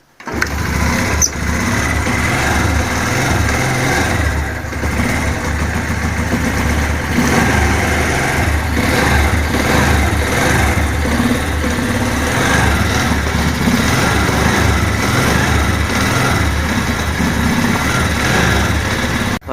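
A Spark 125 4WQ moped engine idles after warm-up, a loud, close, steady putter that runs unbroken and carries a slight air-leak character, with no talking.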